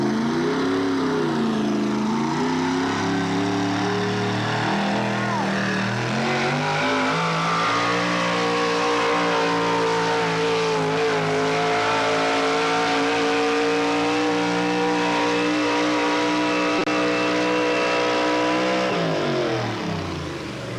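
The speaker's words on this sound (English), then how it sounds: "city folks don't like our trucks. They make too much noise." Truck engines at a 1986 truck pull in Waupaca, Wisconsin, a loud sustained roar that climbs and revs through shifting pitch for about twenty seconds, close and alone without talk.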